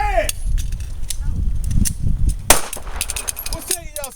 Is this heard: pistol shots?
yes